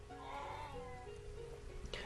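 Faint sheep bleating from livestock pens in the village-building game Banished, a drawn-out wavering call under soft background ambience with a quiet voice nearby.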